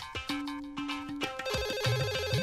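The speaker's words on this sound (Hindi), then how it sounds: "टेलीफोन की घंटी बज रही है सर।" Telephone bell ringing in a police station office, repeated rapid trilling bursts in an electronic ringtone pattern, loud and close with no talk over it.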